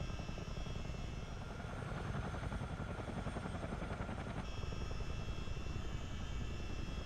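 A counter-rotating helicopter in Microsoft Flight Simulator drones steadily with a dense rotor chop and engine whine, loud and continuous throughout with no speech.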